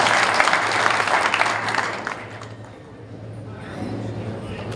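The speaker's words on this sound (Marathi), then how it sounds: "तुमच्यासाठीच तुम्ही एकदा टाळ्या वाजवा." An audience at a Marathi political gathering claps loudly and steadily, the applause thinning out partway through and then picking up again, with crowd noise and voices mixed in.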